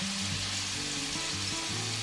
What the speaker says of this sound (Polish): łososia i krewetki teraz obsmażyć